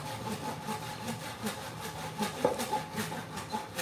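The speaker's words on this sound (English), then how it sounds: "it honestly feels pretty good, especially while sawing this right now" Steady back-and-forth sawing of wood, rhythmic rasping strokes repeating close by, with a low rumble in the background.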